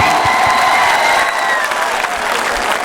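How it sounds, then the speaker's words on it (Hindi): Audience applause and some cheering at a mushaira, a steady dense roar of clapping that stays loud across the clip. "एक बार दोनों हाथ खड़े करके जोरदार तालियां बजाएं"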